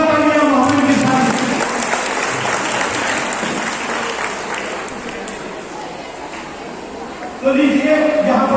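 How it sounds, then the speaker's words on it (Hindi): Loud applause from a large crowd at the inauguration of an Islamic quiz and naat competition fills the space, dense steady clapping that slowly thins, then a voice speaks over the tail end. "जोरदार तालियां मोहम्मद की शान"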